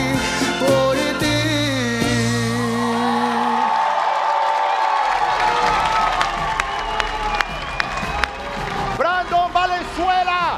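A crowd cheers, whoops and claps loudly as a singer's song fades out on a televised singing competition, with a voice speaking over the lively applause.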